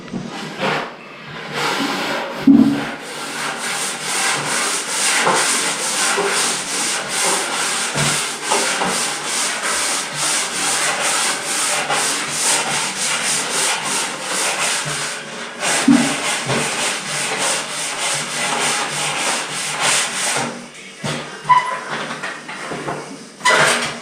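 Wood being sanded by hand with steady back-and-forth rubbing strokes, close and continuous for most of the stretch, with brief pauses near the start and toward the end.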